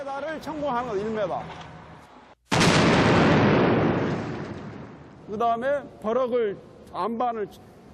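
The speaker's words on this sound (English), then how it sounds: "1 meter of rock is blasted out of each explosion" A loud rock-blasting explosion in a Seoul subway tunnel bursts in suddenly and rumbles away over a few seconds, with people talking before and after it.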